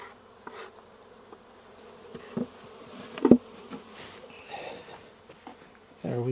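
Honeybees buzzing around a hive at a beekeeper's apiary, a steady close drone of many bees with occasional louder fly-bys and a few soft handling knocks.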